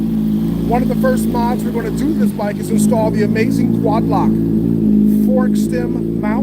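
A new motorcycle engine idles steadily while warming up, a constant low rumble running throughout beneath someone talking close by.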